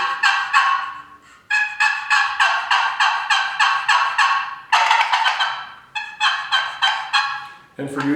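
Turkey gobble imitated on a 2020 Trinity Yelper wooden box call, rapid bursts of rattling, yelping gobbles in several quick series, loud and close with short pauses between.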